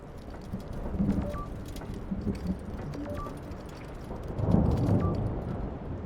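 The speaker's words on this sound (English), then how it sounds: "Man, this storm is crazy." A thunderstorm rolls through the video game Return to Grace, with steady rain hissing over deep, drawn-out thunder rumbles that swell toward the end. A voice speaks briefly.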